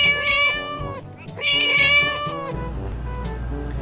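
Two clear, plaintive cat meows close to the listener, one after the other, followed by faint background noise.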